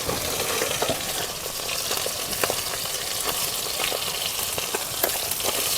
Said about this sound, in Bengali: এবার যে বাকি যে মাছগুলো আছে এগুলো সব ভেজে নিই।